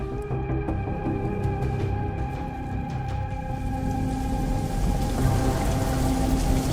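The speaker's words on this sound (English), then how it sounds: "Rain." Steady rain falls and patters on surfaces in a dark, stormy setting, a dense constant hiss that holds throughout with a faint rumble beneath.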